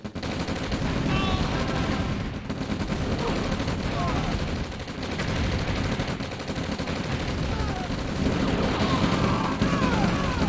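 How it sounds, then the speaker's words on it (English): V2 rocket strikes land in OpenRA Red Alert, a dense stream of booms and crackling impacts rumbling on without pause, broken by scattered gunfire and battle noise. "There we go, some V2 strikes coming in."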